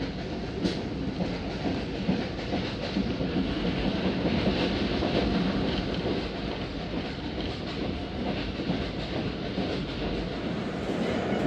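Khyber Mail passenger train running at speed between Multan and Lahore in Pakistan, a steady loud rumble of wheels on rails with clattering carriages, heard from inside the train without talk.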